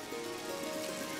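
Heavy summer rain pours down steadily as a constant broadband hiss, close and even, with a faint steady tone running through it and no voices.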